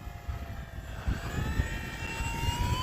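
An E-flite Commander MPD radio-controlled model plane flies at about quarter throttle, its electric motor giving a thin rising whine that grows slightly louder as it passes at moderate distance.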